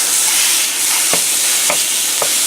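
A pound of lean chopped hamburger fries in a Copper Chef pan, giving a loud, steady sizzle with a few soft scraping stirs.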